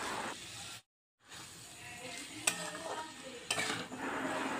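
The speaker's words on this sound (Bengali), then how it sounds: "এরপর মাংসের টুকরোগুলো দিয়ে দিলাম। মশলার সাথে মাংস ভালো করে কষিয়ে নিতে হবে।" Chicken pieces sizzle in a spicy masala while being stirred, a close, steady hiss with scraping strokes and a brief pause in the middle.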